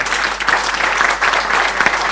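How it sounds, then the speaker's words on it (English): A lecture audience breaks into steady, dense applause at the close of a talk, many hands clapping together at close range with no voices over it. "One applause."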